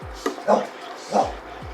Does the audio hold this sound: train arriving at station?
no